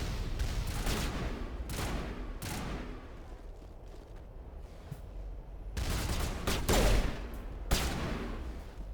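Turret gunfire in the video game Mass Effect: several bursts of rapid shots come in loud clusters near the start and again toward the end, with a quieter rumbling stretch between them.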